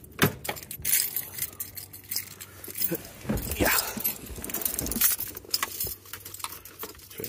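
Car keys jangle repeatedly near at hand as someone gets into a car fitted with brand new motor mounts, a brief spoken word breaking in partway through.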